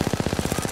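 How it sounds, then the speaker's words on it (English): A rapid, even string of automatic gunshots in the video game Apex Legends, about a dozen evenly spaced cracks in under a second, moderately loud. "I missed every shot."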